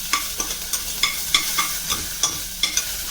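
Urad dal, curry leaves and green chillies tempered in hot oil and stirred with a spoon, giving a steady sizzle broken by regular tapping scrapes of the utensil against the pan, close and fairly loud.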